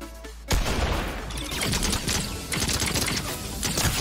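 A ray gun fires in a rapid stream of sharp, crackling blasts in the Fortnite video game, starting abruptly after a brief pause and continuing densely to the end.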